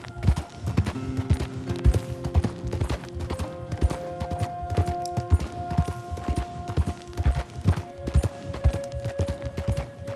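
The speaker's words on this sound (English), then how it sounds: "I got a horse." Steady clip-clop of horse hooves in the video game Red Dead Redemption 2, trotting at a brisk, even rhythm, with a sustained musical tone underneath and an occasional snort.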